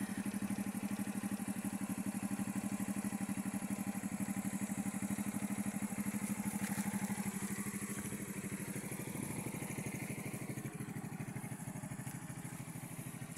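A Euro Marvel 125 motorcycle engine idles steadily close by, a continuous low chugging rumble with a fine rapid pulse and slight mechanical clatter, with no voices.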